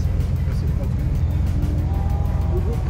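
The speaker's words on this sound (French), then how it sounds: "celle qui suit Jean-Pierre. Porsche Almeras" A Porsche rally car at the Rallye Auriol Classic goes by as a steady, low engine rumble, moderately close and continuous throughout, with a faint voice in the background.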